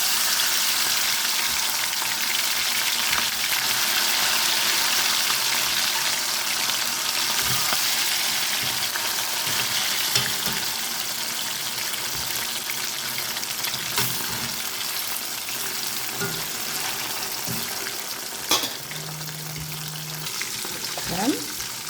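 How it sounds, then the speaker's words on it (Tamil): Marinated prawns deep-fry in hot oil with a steady, dense crackling sizzle, and occasional clinks and stirring sounds come through nearby. "ஊற வச்ச ப்ரான்ஸை நாங்கள் இப்போ பொரிச்சு எடுக்க போகிறோம்"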